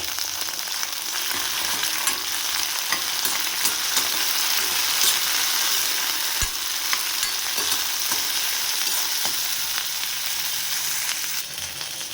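Onion fries in a new pan, giving a constant, even sizzle with occasional light scraping clicks from stirring, close and steady throughout, with no speech.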